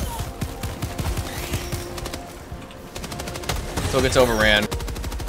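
Automatic turret gunfire in the Helldivers 2 video game, rapid repeated bursts of shots running through the whole stretch, with a louder flurry near the end and a short line of speech over the shooting.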